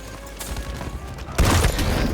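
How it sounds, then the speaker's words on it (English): A thrown grenade in a video game goes off as a sudden loud, close, broadband blast partway through, following quieter game ambience with faint gunfire. "Throwing grenade!"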